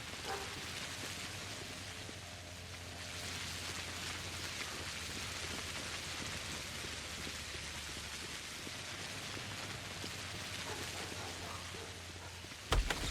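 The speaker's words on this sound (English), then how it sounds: "it's raining now" Steady rain falls throughout in the video game Pathologic, a dense, even hiss of drops without pause, with a brief sharper knock near the end and no talk over it.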